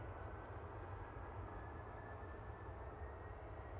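An airliner taxis out at Manchester Airport, heard as a faint, distant, steady engine rumble and whine that holds evenly, with no talk.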